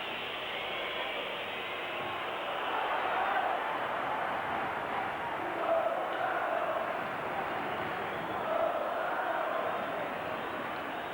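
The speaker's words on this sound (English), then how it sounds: "The crowd urging the referee to end it" A dense crowd roars steadily in a football stadium during a Serie A match between Genoa and Juventus, urging the referee to end it. The noise is distant and washed out, with slight swells and no clear chants.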